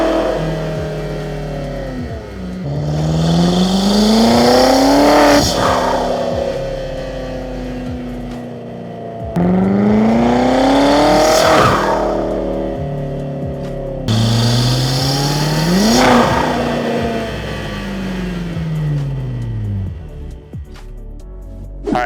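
A BMW X5M accelerates hard through three rising runs, each engine roar climbing in pitch before an upshift, with one long pull tapering off at the end. The sound is loud and close throughout.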